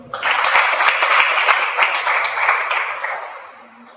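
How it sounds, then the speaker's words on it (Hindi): Applause from a church congregation at a Sunday service, steady clapping for about three seconds that swells quickly and then fades out toward the end. "आइए हम उस पवित्र परमेश्वर के लिए पर जोरदार तालियां बजाएं।"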